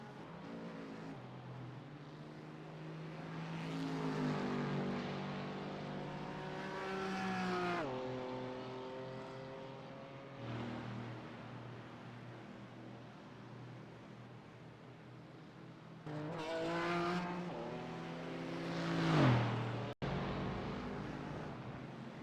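White BMW M4 GT4 race car lapping Monza in a racing video game, its engine droning loud and steady through repeated upshifts and downshifts, with a sharp rising rev near the end.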